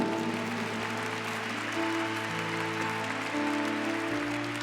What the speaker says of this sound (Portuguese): Pode aplaudir, a palavra é tua.